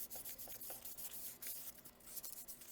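Sandpaper rubbing a small part from an Elna Computer sewing machine foot control during repair, a faint, rapid back-and-forth scratchy rasp in short strokes, close and quiet with no voices.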